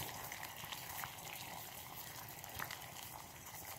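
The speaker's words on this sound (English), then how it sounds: "I got boiling water, woohoo!" Water boiling in a pot over a campfire in the rain at dusk, making tea: a steady, soft bubbling and hissing wash that stays even throughout, with faint crackle and no talk.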